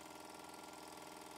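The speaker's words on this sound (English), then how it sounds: "Here's the engine running, and as you can see, it runs rather well." A small Mamod model steam traction engine runs steadily, giving a continuous, even mechanical chuffing and whirring close by, quiet and with no voices.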